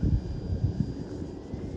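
An E-flite Turbo Timber Evolution 1.5m RC airplane flies overhead with a steady low motor drone, rumbling and buffeted by wind noise over the microphone, holding at a moderate level throughout.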